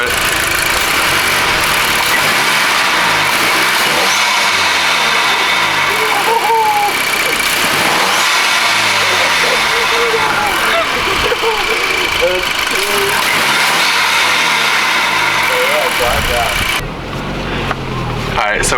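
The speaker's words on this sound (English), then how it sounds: "we got some nice blow-off noises" A Volkswagen GTI turbo engine with a CTS intake revs loudly and up close, with repeated rising and falling surges and blow-off hisses across the clip, and voices now and then over it.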